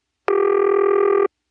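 A single buzzy ring tone from an Automatic Electric step-by-step telephone exchange used by Rock Hill Telephone in Rock Hill, South Carolina, 1977, sounds for about a second, loud and steady, then stops abruptly.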